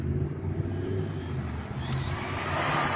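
A Traxxas Bandit VXL RC car on street tires makes a speed pass, a steady buzzing motor whine over wind and outdoor noise that swells slightly toward the end.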